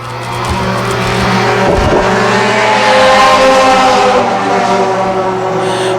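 Thunder Stock race cars roar hard on a restart at Can Am Speedway, a loud, sustained engine drone with rising pitch and one brief lull, the pack heard close and continuous.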